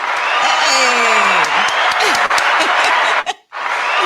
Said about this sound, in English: Can I get some hand clap?